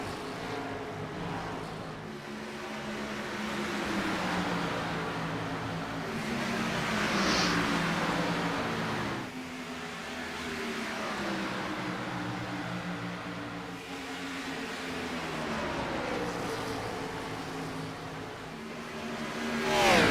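A race car engine circles the track at a Saturday night short-track race in Atlanta, its drone swelling and fading in repeated passes over twenty seconds, heard from a moderate distance without commentary.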